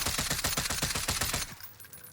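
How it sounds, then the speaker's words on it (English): Rapid automatic gunfire in Warzone from a gun fitted with a bruiser grip, a loud fast burst of evenly spaced shots lasting over a second before stopping. "I'm gonna be shooting here. I'm gonna shoot over these bullets."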